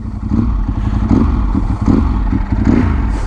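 A Ducati 916 SPS motorcycle engine, ridden after a 17-year layoff, revs loudly and close, a rough pulsing clattery roar rising and falling in repeated bursts.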